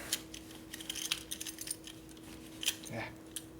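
Keys jangle and clink in short bright bursts, faint and close, with a steady hum beneath, in a workshop during a 1972 Harley-Davidson Ironhead Sportster 1000cc street tracker rebuild.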